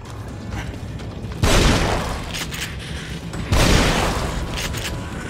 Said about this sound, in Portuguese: Vou dar tiro de 12 nele pra derrubar ele no chão.